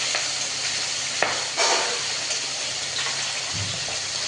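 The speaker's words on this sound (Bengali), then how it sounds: "আর এই যে মাছ ভাজবো, এদিকে মাছ উল্টাচ্ছে।" Fish sizzling as it fries in a pan for rohu fish curry, a steady close hiss of hot oil with a few brief clatters and splashes as the pieces are turned over.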